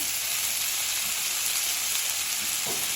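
Curry leaves and finely chopped tomato frying in hot oil for a rajma sambar, a steady loud sizzle that holds throughout with no talk.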